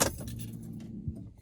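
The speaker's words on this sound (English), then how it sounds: "Car keys in." Car keys jangle and scrape as they slide into a car's ignition, a brief close metallic rattle with a couple of small clicks, heard alone.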